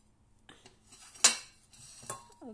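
Kitchen dishes and pots clatter as food is put into a bowl: a few scattered clinks, then a sharp metallic knock and a second clang, close and isolated in a quiet room.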